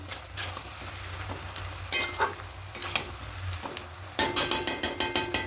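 Minced chicken and cabbage stirred in a pan, a quiet sizzle under scraping strokes that grow into a quick run of loud utensil clanks against the pan.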